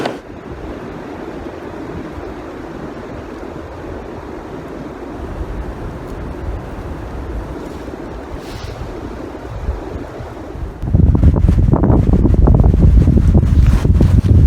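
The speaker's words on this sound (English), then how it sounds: "You can hear that wind." Steady wind under a wind advisory in West Virginia roars and buffets the microphone, with a heavy low rush of gusts growing louder near the end.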